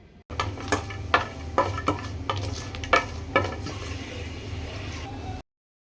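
Cumin seeds and cashew pieces fry in a pan for jeera rice, giving a low steady sizzle with several sharp clinks and scrapes of a spoon stirring close by before the sound cuts off.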